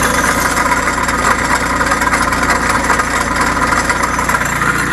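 A Bolens Iseki H1502 diesel tractor idles in the snow after a cold start. Its loud, close, steady engine chugs with a constant vibrating rumble, and no one speaks.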